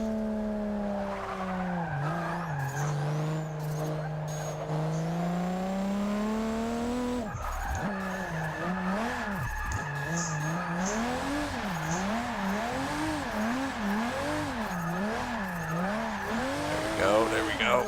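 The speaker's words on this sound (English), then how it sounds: "and I about smoked those tires." A race car in Forza Motorsport 6 practicing at Catalunya whines through the gears with a continuous engine drone, rising and falling with each shift, while tires squeal and skid in bursts through corners and a voice talks over the action.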